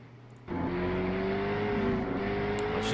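A V8 Supercar engine in a sim racing game at Charlotte Roval, heard onboard during a lap: the steady, loud drone kicks in after a brief quiet moment and holds at high revs throughout.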